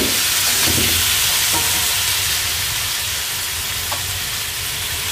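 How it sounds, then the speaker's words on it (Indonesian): Chicken pieces sizzle loudly in hot spiced oil in a wok, with steady frying hiss and occasional stirring scrapes for soto ayam, no talking. "Terus lanjut kita masukkan ayamnya ya"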